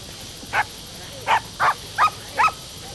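Dogs with a search party in a Hindi film scene give five short, sharp barks spaced about half a second apart, fairly near over a quiet outdoor background.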